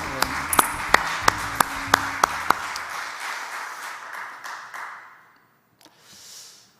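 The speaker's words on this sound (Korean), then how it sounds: "하나님께 영광의 박수를 드릴까요?" A church congregation applauds during a Sunday worship service: sharp, distinct claps ring out over a fuller patter of clapping that fades away after about five seconds, followed by near silence.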